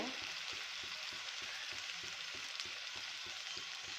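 Onions and potatoes sautéing in oil for a dry kanda batata sabzi, a steady close sizzle and crackle with regular soft stirring scrapes in the pan, no voices.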